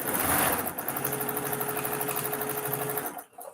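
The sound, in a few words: Brother Novell 1500 sewing machine running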